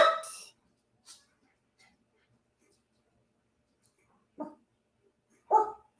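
A dog barks in several short, sharp bursts, close and fairly loud, with long quiet gaps between them. The barks come near the start and again toward the end.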